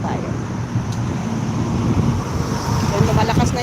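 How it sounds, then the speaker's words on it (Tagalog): Wind gusts outdoors during a wait, buffeting the microphone in a rough, rumbling wash that swells slightly louder toward the end, while a person talks underneath. "lumalakas na yung hangin"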